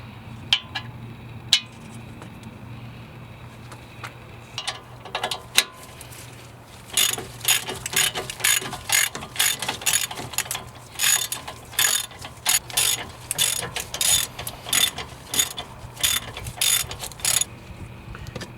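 An Allen key ratchets out the brake caliper bolt on a VW Passat, a quiet start followed by fast repeated close clicking bursts that continue to the end.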